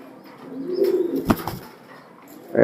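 Racing pigeons give a low drawn-out coo close by, followed by a short burst of wing flutter.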